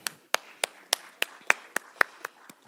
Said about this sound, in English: So a round of applause to them for taking time out of their Fridays to be here with us.